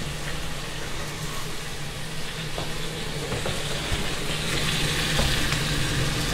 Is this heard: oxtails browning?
yes